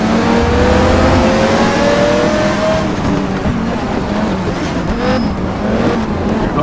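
Simulated race car engine from GTR Evolution, a racing video game, revving hard and steadily with rising and falling pitch during rev-matched gear changes, loud and continuous with no speech.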